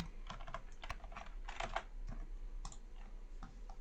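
Rapid computer keyboard typing while Lua code is written, a close, steady run of light key clicks in irregular bursts with a short pause, no voice.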